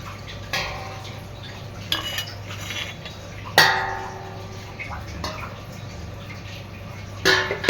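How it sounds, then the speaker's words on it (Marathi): Prawns being mixed with masala marinade in a bowl, marked by intermittent sharp clinks of a spoon against the dish and soft wet stirring between them, close and fairly quiet. "चांगलं मिक्स करून घ्यायचं आहे"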